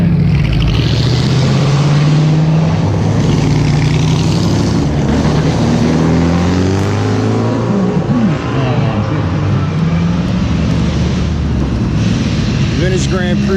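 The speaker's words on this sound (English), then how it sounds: "Here come some more cars." Vintage race cars at the Pittsburgh Vintage Grand Prix roaring past one after another, loud engine drones rising and falling in pitch as they pass, with a busy outdoor background and faint voices.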